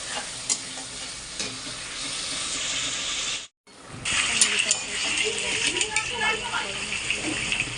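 Spice paste of tomato, ginger, panch phoron, ground spices, a little sugar and water sizzles and bubbles in a wok, with a steady close hiss and stirring clatter, briefly cutting out once before resuming louder.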